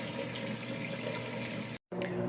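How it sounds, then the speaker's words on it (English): A Maytag washing machine drains its water in a steady, continuous rush with a low hum, fairly close and loud, broken by a brief silent gap near the end. "Now it's draining that water out nice and fast."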